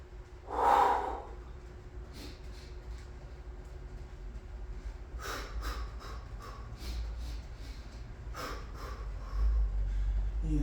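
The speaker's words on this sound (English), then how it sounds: "Inhale, exhale, always breathing" Heavy, forceful breaths and snorts from a person doing chin-pull exercises in a garage: one strong exhale near the start, then a run of short, rhythmic puffs and gasps over a low steady rumble.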